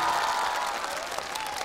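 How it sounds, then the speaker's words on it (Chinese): An audience at a magic act on a televised talent show bursts into steady applause, a dense wash of clapping that holds without a break for a couple of seconds. "来，掌声送给他"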